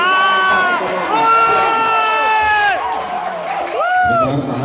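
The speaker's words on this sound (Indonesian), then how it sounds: "mohon para pendukung ya agak tertib, tepuk tangannya agak ditahan" Supporters cheer and shout in a loud, continuous crowd roar during a candidates' question-and-answer debate for the Lampung Barat regional election, with raised voices swelling and overlapping throughout.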